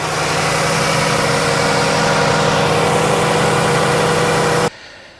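A 2013 Chrysler 200 with a 3.6 liter V6, freshly fitted with new spark plugs, idles in a steady, loud, even hum with no voices, then cuts off sharply near the end.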